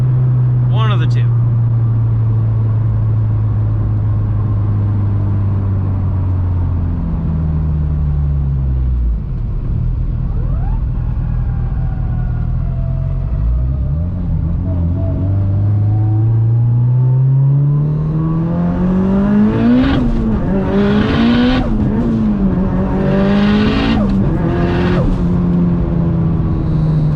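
Turbocharged 600hp Mitsubishi Evo 9 engine, a loud droning note that drops, then climbs steadily in a hard pull with rising revs and sharp bursts near the end, with a voice talking over it.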